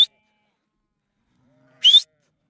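A sheep in a spring flock with lambs gives two short, sharp bleats separated by a long silence. Both calls sound close and clear.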